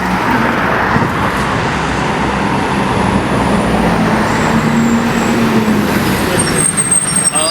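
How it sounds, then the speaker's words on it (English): A Toronto TTC route 100 city bus pulls up through street traffic. The engine rumble and road noise are loud, close and continuous, with a faint brake squeal near the end. "that is the 100 number bus coming, which takes you to the Broadview"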